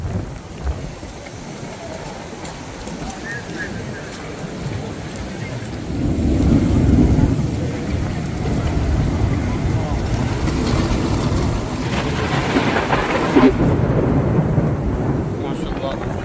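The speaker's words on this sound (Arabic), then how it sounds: "بس شوفوا قوة الأمطار، قوة الهواء." Torrential rain and strong wind at Masjid al-Haram in Makkah, a loud, steady downpour with low rumbling gusts that build partway through and stay heavy.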